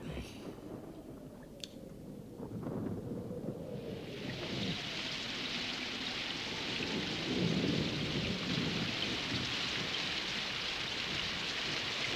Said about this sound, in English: It looks like rain again.